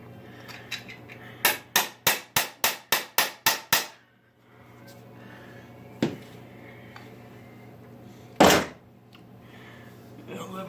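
A hammer bangs in a quick run of about nine evenly spaced strikes, followed later by two heavier single blows, close and loud.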